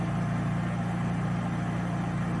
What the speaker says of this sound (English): she runs phenomenal with that aftermarket carburetor. So that shocked me. I really didn't think that was going to work well, but she idles so good